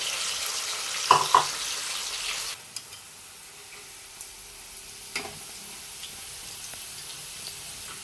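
Avarekaalu (field beans) frying in hot oil in a home kitchen, a soft continuous sizzle with a few sharp clinks of a utensil early on, then a quieter bubbling hiss with occasional taps.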